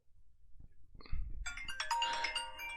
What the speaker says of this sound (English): then my phone starts ringing.